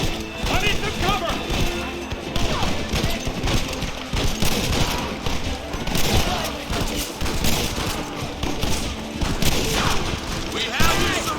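Dense, continuous gunfire from the video game Red Dead Redemption, with rapid overlapping shots and crashing impacts in a loud battle scene, with shouted voices mixed into the clamor.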